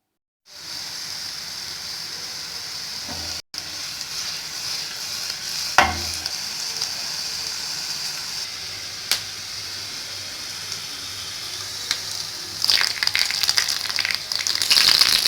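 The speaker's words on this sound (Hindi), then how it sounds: "अच्छी तरह इसको हमने फ्राई कर लेना है" Green chillies and ginger fry in hot oil in a pan, a steady close sizzle with occasional stirring clatter and spatter bursts, growing livelier toward the end.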